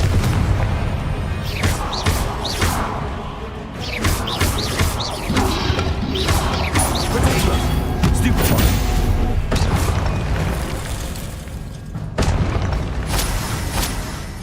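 Repeated booming spell blasts and crashing impacts from the Confringo fire spell in Hogwarts Legacy, loud and dense over a continuous rumbling game soundscape, with several sharp bursts in succession.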